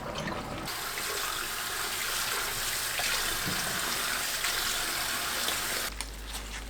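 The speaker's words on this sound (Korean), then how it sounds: "찬물에 씻고 체에 받쳐줍니다." Cabbage leaves rinsed under cold running water from a kitchen tap, a steady close splashing stream that runs for several seconds before cutting off, with no voices.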